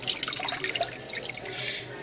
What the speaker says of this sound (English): Submerge in water for about 2 minutes just so the beret is soaked.